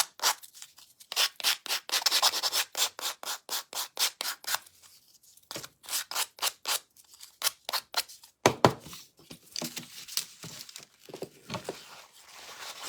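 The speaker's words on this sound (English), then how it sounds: "And then I'm going to just go around the edge with my rougher sander and distress that edge." A rough sander works around the edge of freshly painted wood to distress it, producing close, rhythmic rasping strokes in quick repeated runs with short pauses, with no talking.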